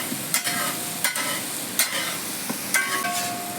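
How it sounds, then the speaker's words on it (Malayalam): Oil sizzles steadily as bird's eye chilies fry for pickle, with a few sharp scrapes from stirring at intervals. "അത് ഒന്ന് എണ്ണയ്ക്കകത്ത് പൊട്ടിച്ചിങ്ങ് എടുത്താൽ മതി"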